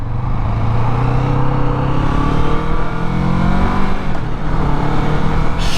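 Kawasaki Vulcan S cruiser motorcycle accelerating hard from close range, a loud, steady engine roar rising in pitch through the gears with wind rush, no talking.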